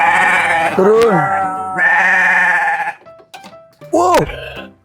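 A sheep bought at a livestock sale gives several loud, close bleats in bursts with brief pauses, and a person speaks a single short word between them.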